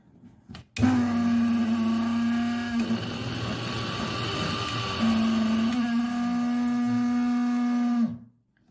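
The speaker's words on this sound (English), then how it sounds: "the model of the mixer grinder which I have used is the Philips Supreme 550 volt" An old Philips Supreme mixer grinder with a worn motor runs loud and steady, a whining electric hum with a strong tonal drone that shifts pitch midway, starting abruptly and cutting off at the end.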